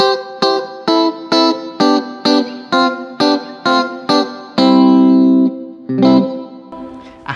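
Electric guitar through an Orange Crush 20RT amp with spring reverb: a run of evenly spaced strummed chords, then a long sustained chord and a final strum, washed in springy echo.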